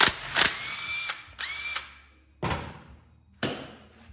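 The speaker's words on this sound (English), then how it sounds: "Then you can take a 1/2-inch socket, spin the one out of your crank gear in a 9/16 and spin it out of your cam gear." Ratchet with a 1/2-inch socket spinning a bolt out of a crank gear on a 2002 engine, in four separate bursts of rapid clicking and whirring, each lasting a fraction of a second to about half a second, close and fairly loud.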